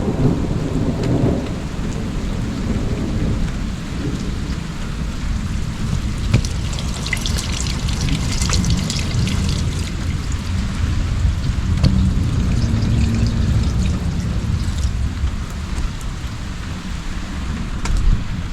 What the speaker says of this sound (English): so we finally got some rain